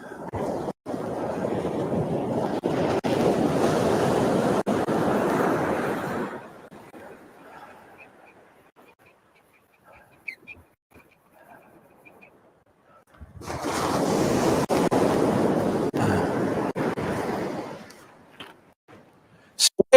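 Surf on a remote Australian beach with limestone reef and yellow sand, heard as two long loud washes of wave noise, each several seconds, separated by a near-silent gap with faint rustles.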